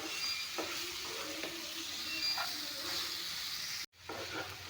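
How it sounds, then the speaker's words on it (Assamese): Rohu fish coated in turmeric is stirred in a hot frying pan, giving a steady close sizzle broken by soft scraping strokes, with a brief drop to near silence just before the end. "এইখিনি অলপমান ভালদৰে লাৰি দিম, যাতে ৰংগুড়াখিনি লাগি যায়।"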